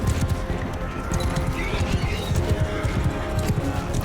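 Cavalry horses riding in during a Mount & Blade II: Bannerlord battle, a dense rumble of hoofbeats with scattered clip-clop thuds and battle noise running throughout.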